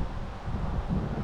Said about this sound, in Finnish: tuuli on aika voimakas